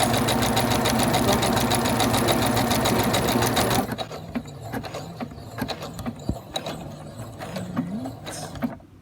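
A sewing machine stitching a buttonhole, a rapid, even mechanical rattle for about four seconds, close and loud, then stopping abruptly into quiet handling clicks and faint rustling.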